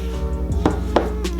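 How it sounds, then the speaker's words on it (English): Walnuts are chopped for chocolate chip cookies with a few quick knife strikes on a board, heard close over a steady low background hum. "Chop down your nuts."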